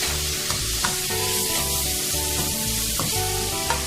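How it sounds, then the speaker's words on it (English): Food flash frying in a hot pan with mushrooms, a loud steady sizzle with crackling pops, close up and continuous with no talking. "we're just going to give these a flash fry"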